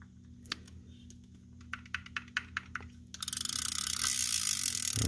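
A Penn Surfmaster 250 fishing reel being reassembled gives a handful of sharp, separate mechanical clicks as a part is screwed on, then a fast, continuous ratcheting buzz as the spool spins, close and clear with no talking.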